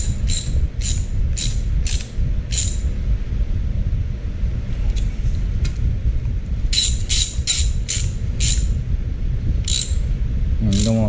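A ratchet tightens bolts on a Farmall Cub engine during a piston ring install, giving quick bursts of loud, close pawl clicks in two rapid series over a steady low rumble.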